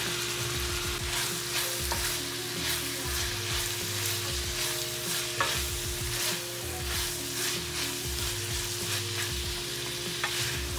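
Diced carrots and peas sizzle steadily in a hot pan while a spoon scrapes and stirs them in repeated strokes, a close, continuous frying hiss for Ecuadorian chicken and rice.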